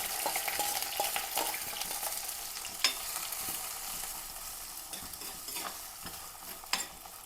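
Chopped green chilli, ginger and garlic fry in oil with fenugreek seeds, making a bright sizzle. Stirring scrapes and clicks recur throughout, with a couple of sharper knocks and no talking.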